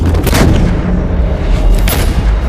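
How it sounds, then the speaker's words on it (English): Heavy artillery and mortar fire in a night battle along the line of control, a loud continuous roar of overlapping booms and blasts filling the whole stretch with no let-up and no voices. "The artillery opened, the mortars opened, the infantry posts opened."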